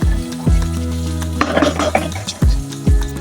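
Onions fry in oil in a pan, with a low hiss under several loud metal spatula scrapes and taps against the pan at irregular intervals.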